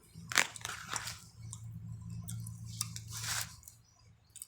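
Close, wet chewing of fattened beef with rice: several crunchy, squelching bites and mouth sounds in uneven bursts against a low steady hum, with no talking.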